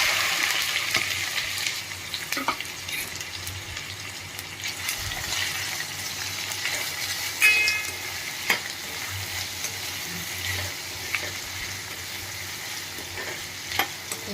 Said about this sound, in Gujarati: હવે આપણે એમાં ભીંડો એડ કરી દઈશું